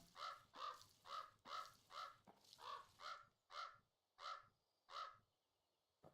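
A crow caws about ten times in a steady, evenly spaced series, each call harsh and clear against quiet surroundings, with no one talking.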